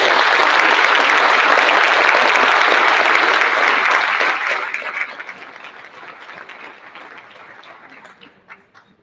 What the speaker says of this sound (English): I'd like to give a round of applause for our panelists.